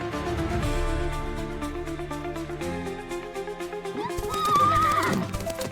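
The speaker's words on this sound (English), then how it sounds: "I woke up to the sound of galloping horses." Horses neigh and whinny over galloping hoofbeats in a video game, a loud, layered burst with music-like tones beneath and a long rising whinny near the end.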